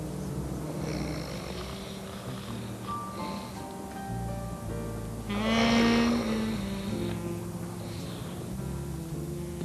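A man snores in his sleep at night, drawn-out rasping breaths with one louder rattling snore in the middle, heard close by.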